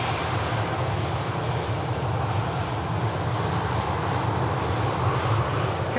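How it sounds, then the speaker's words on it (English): EasyJet Airbus A320neo inbound from Alicante landing at Manchester Airport, a continuous loud low engine rumble and rushing roar that stays steady throughout, with no speech. "Qatar just holding short for this EasyJet inbound, this Alicante Neo."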